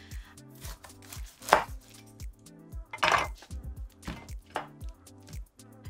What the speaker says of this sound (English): this actually does have a pretty good aroma, so I feel good about slicing into it